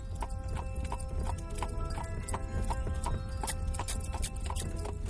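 Horse hooves clip-clop in a steady, even rhythm as the horse pulls a ride along at about nine miles an hour, with a constant low rumble of wheels underneath and no talk.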